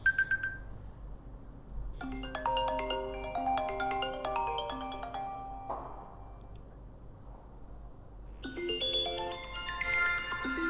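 An iPhone X ringtone plays from its top earpiece speaker on a handset whose bottom speaker is faulty, chiming melodic notes in two separate bursts with a short quiet pause between them, clear and fairly close, with no talking.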